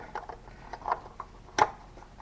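A few faint, quick clicks and ratcheting ticks come from an oil filler cap being screwed back onto a Jeep JK engine by hand. They are close and sparse, with one sharper click near the end.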